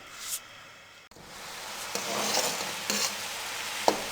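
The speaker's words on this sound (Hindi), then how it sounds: "अब मीडियम फ्लेम पे हम एक तार वाली चाशनी बना लेंगे" Sugar syrup with green cardamom bubbling on a medium flame, a soft continuous simmering hiss with occasional scraping stirs of a spoon in the pan, fairly quiet and close.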